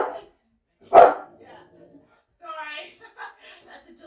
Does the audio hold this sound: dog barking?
yes